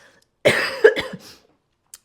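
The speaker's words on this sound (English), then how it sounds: "I'm going to cough" A single person coughs once sharply up close, with a short rough follow-through of throat clearing, in an otherwise quiet room.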